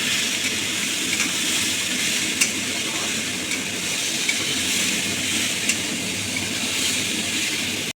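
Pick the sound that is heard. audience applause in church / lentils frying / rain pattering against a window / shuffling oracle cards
lentils frying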